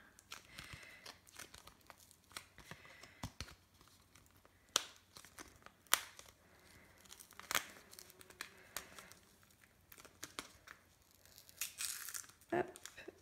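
Plastic packaging for a premium fine-point Cricut blade is opened, with quiet crinkling, tearing and scattered clicks in irregular bursts, some sharper snaps near the end.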